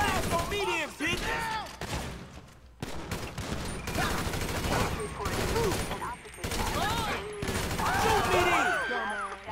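Bursts of automatic gunfire in GTA 5 during a street shootout, dense rapid volleys close by, mixed with shouting voices and other game sounds.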